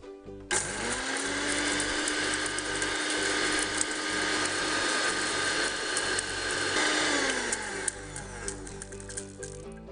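Mixer grinder whirring loudly and steadily, grinding salt and other ingredients into a powder for a mucus home remedy, one continuous motor run of about seven seconds with a spin-up at the start and a wind-down near the end.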